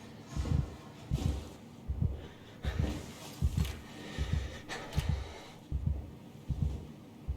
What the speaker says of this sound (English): Why am I heart beating? Why can I hear it?